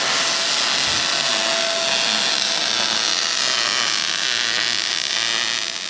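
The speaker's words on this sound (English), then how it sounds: "pretty much all there is to do tonight is just weld this thing up" Continuous broadband hiss and crackle of welding on a race car chassis, a steady loud wash held throughout with no speech.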